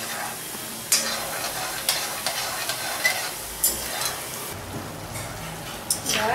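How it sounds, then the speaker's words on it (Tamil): Oil sizzles and crackles steadily in a pan as seedai dough balls deep-fry, with occasional sharper pops and light stirring scrapes, fairly quiet and close. "நல்லா அந்த சலசலப்பு அடங்கு வர வேகட்டும்."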